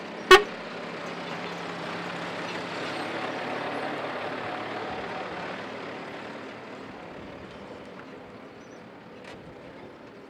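Garbage trucks at the Mamatoro landfill in Ziguinchor, Senegal, give a steady low engine rumble. A sharp horn toot comes near the start, and another faint one follows later, with no voices.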